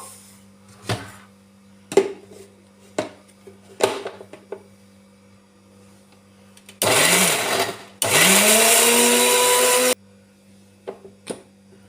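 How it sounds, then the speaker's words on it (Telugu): A kitchen mixer grinder purees chopped tomato pieces in two loud whirring bursts of about a second and two seconds, set between scattered clicks and handling knocks. "మిక్సీ జార్ మూత పెట్టుకొని ఇంకా మిక్సీకి అయితే పట్టుకుందాము"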